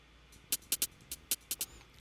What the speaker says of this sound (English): And then I have a hi-hat that sounds like this.